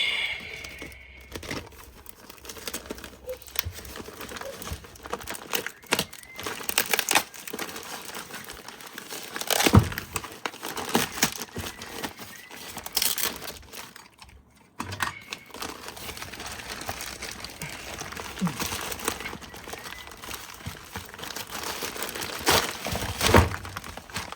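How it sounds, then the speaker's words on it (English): A parcel of dry sump parts for a big block Commodore engine is cut open and unpacked close by. Plastic and paper crinkle and rustle steadily, with tearing and scattered sharp clicks and thuds as items are pulled out. "So we'll cut this open and we'll have a look and see what we got, eh?"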